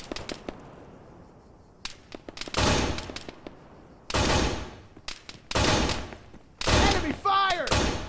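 Bursts of gunfire from the military shooter Arma 3 come in several loud volleys separated by short pauses, with shouted radio callouts mixed in among the shots.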